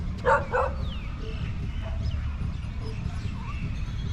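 A few stray dog barks and yips sound early on against a steady low rumble of outdoor background noise in a public park in Korat, Thailand, then the dogs fall quiet.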